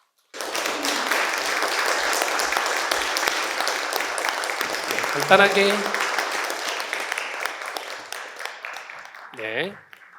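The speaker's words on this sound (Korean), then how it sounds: "큰 박수로 맞이해 주시기 바랍니다." Sustained applause from a large lecture audience welcomes a cellist to the stage, filling the room for several seconds, then fading out, with a brief voice near the end.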